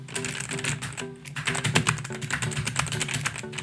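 Steady fast typing on a Xiaomi gaming keyboard, with crisp mechanical key clicks close up, a few brief pauses and no voices.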